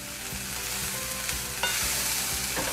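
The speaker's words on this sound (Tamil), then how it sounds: "இப்போ இதை நல்லா கலந்து விட்டுடலாம்." Cooked navadhanya, a mix of nine grains, is stirred in a pan, a steady sizzle running under repeated scraping strokes of the spoon against the metal throughout.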